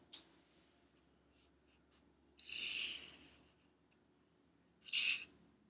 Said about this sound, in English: This is how you write in uppercase T.